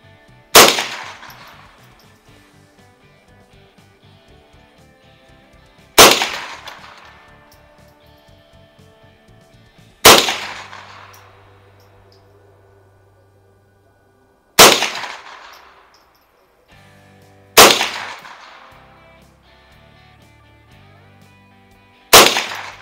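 An Erma Werke EM-122 .22 LR M1 carbine military trainer fired at a range, five or six sharp single shots spaced several seconds apart, each with a short decaying ring.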